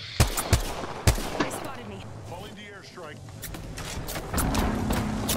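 Gunfire in the Apex Legends battle royale game: several sharp shots and short bursts, loudest early then scattered, mixed with in-game effects while a player talks excitedly over them.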